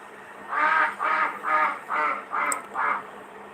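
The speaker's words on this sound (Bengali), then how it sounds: "আমার বাসার ছাদে কিছু হাঁস মুরগি আছে তো ওগুলো এখন ডাকতেছে" A duck on a rooftop quacks six times in an even, rhythmic series, loud and nearby, against a quiet background.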